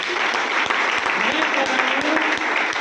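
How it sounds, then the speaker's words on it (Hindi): Applause from an audience at a business training session, a steady dense wash of clapping filling the room, loud and continuous throughout. "ताली होनी चाहिए सर के लिए।"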